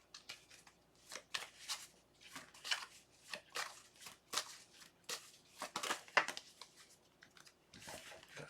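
Tarot cards being shuffled by hand, a quiet close series of crisp riffling and slapping bursts in an irregular rhythm, with no talking.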